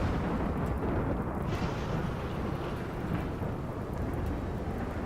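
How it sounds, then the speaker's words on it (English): Steady heavy rain pours down with a low, rolling thunder rumble underneath in the video game RimWorld, a dense, continuous wash of storm noise with no voices. "It's raining at least with our lightning storm, so the fires will go out."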